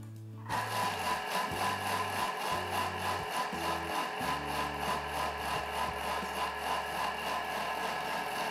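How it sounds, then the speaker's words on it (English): A Thermomix blends dough ingredients with yeast for ten seconds at speed 5.5, a steady loud motor whir starting after a brief pause and running continuously with a rhythmic churning pulse. "And we're just gonna blend this up."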